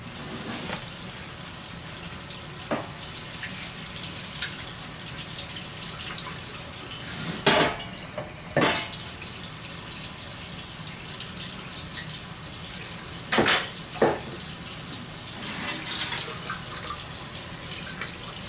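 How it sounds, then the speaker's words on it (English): Water poured from a cup to rinse parts of an xTool S1 laser engraver, a soft steady trickle and splash with a few louder splashing pours standing out, close and fairly quiet. "Rinse everything off. I'll just use a cup here."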